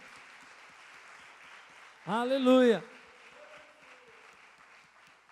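Steady congregation applause in a large church room, with a voice calling out loudly over the clapping for a moment.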